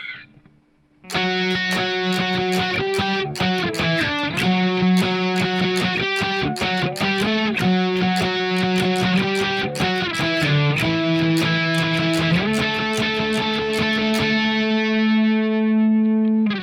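A distorted electric guitar plays the fast lead part of a song, picked notes with sustained bends, loud and continuous, ending on a held note.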